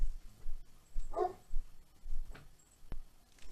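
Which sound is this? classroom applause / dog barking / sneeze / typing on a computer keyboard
dog barking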